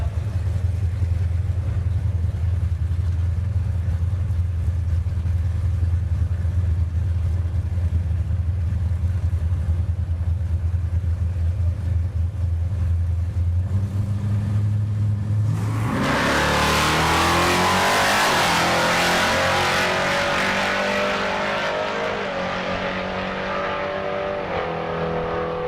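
Drag racing cars, a Nova among them, idle with a low rumble at the line, then launch in a loud rising roar down the dragstrip that gradually fades with distance.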